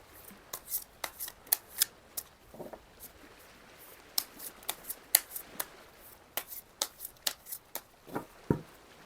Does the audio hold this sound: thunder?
no